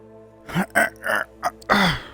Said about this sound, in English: Hold on, I'm trying to clear my throat.